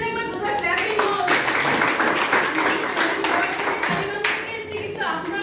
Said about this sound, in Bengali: মানে প্রত্যেকের জন্য একবার জোরে ক্ল্যাপিং হোক।